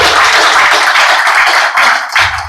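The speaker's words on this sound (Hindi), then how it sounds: "जोरदार ताली बजाइए अपने" An audience at a motivational speech applauds itself, a dense, steady burst of many hands clapping close by for a couple of seconds.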